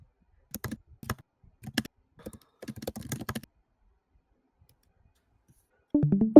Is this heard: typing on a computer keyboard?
yes